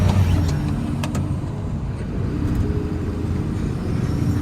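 Steady, loud low engine drone from a chipped Unimog camper truck building speed through its gears, the rumble continuous and close, with a faint hiss-like air brake burst near the start.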